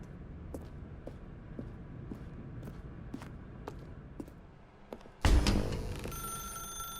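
A telephone in The Stanley Parable video game rings clearly in a quiet office scene, repeated short bell bursts, before a loud sudden burst of noise cuts in near the end.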